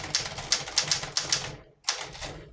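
Rapid keystrokes clack on a Royal KH manual typewriter in a steady burst, then stop briefly before another run of crisp, close typing resumes.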